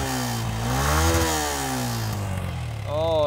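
A Yamaha Exciter or Winner X motorcycle with stock exhaust idles and is revved close by, its buzzing engine note rising and falling in a couple of swells before climbing again at the end.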